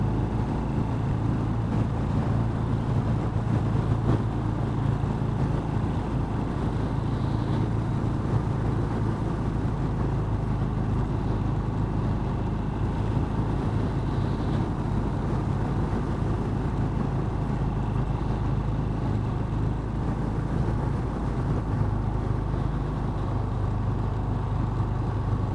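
Bullet 500 motorcycle riding along a road on a long journey, a steady continuous engine drone with road and wind rumble, loud and unbroken throughout.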